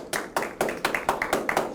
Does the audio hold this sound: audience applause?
yes